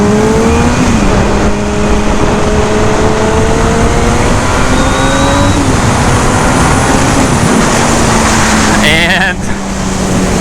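A 2007 Honda CBR600RR sportbike runs on a road at close range, its engine note holding a steady whine and shifting pitch through gear changes, under constant wind rush.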